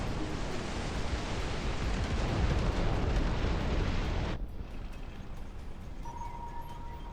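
Artillery strikes in the Dust Front strategy game build into a dense, continuous roar of rumbling blasts that cuts off abruptly, leaving a quieter distant rumble with a faint tone.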